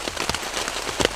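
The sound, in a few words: rain falling on a camping trip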